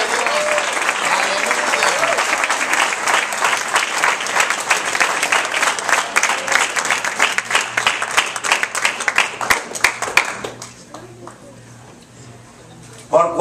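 A wedding congregation claps loudly and steadily in a church for about ten seconds, then the applause cuts off and the room falls quiet before a voice begins.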